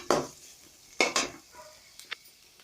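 Masala frying in a pan, heard as a few short bursts of sizzle and stirring scrapes spaced across a quiet moment, close and moderately loud with no talking.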